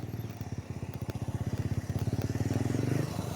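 A modified Yamaha YBR motorcycle engine pulses close by in a rapid, steady exhaust beat that gradually rises in loudness as the bike turns around during a test run.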